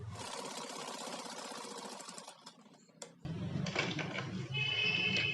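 A sewing machine stitching sleeves onto a cotton nighty runs in a steady, rapid mechanical whir, pauses briefly with a few clicks, then starts again in a fuller, louder run close by.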